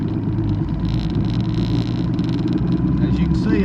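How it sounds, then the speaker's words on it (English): A boat's motor drones steadily and close throughout, a low continuous rumble at even loudness, heard while the boat runs a side-imaging pass over a submerged roadbed near an underwater bridge. "So bear with the motor noise for just a second"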